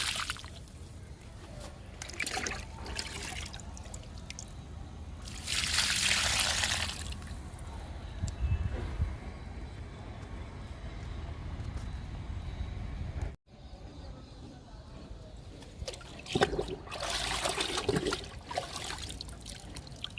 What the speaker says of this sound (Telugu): గోంగూర మొక్కలకి లిక్విడ్ ఇస్తున్నాను